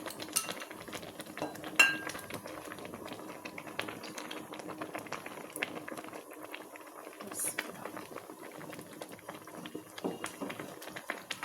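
Lentil soup with tomato and olive oil simmering at a boil in a home kitchen pot, a soft continuous bubbling patter with occasional clinks of a spoon or utensil against the pot, and a voice speaking briefly near the start.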